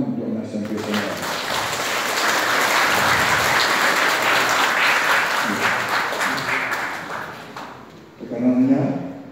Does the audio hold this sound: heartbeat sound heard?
no